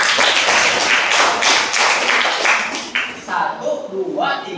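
A small group claps for a winning team at a group competition, a dense run of hand claps that thins out toward the end, with a voice speaking in the last second.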